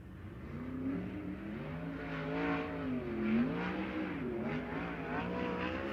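A sprint car runs a qualifying lap at Perris Auto Speedway, its engine revving in rising and falling sweeps as it circles the track, moderately distant and steady, with no talk over it.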